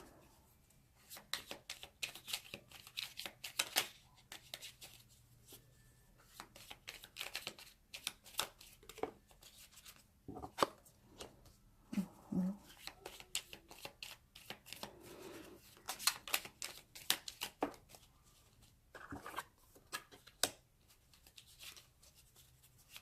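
Tarot or oracle cards shuffled by hand close up, soft repeated riffling and flapping bursts in irregular runs over a long quiet stretch, with a faint voice at moments.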